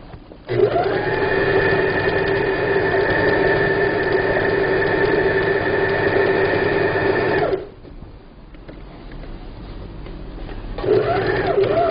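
A sewing machine stitches a fabric table cover in a long steady whir of needle strokes, stops briefly, then starts again, loud and close with a faint hum between runs and no talking.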